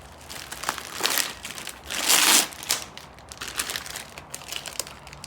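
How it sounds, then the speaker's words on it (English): Plastic packaging around a pull-up bar for a folding rack crinkles and crackles as it is cut and pulled open, a series of close rustling bursts with one louder sustained crumple in the middle. "Taped up pretty well here. Let's cut it so we can unbag it."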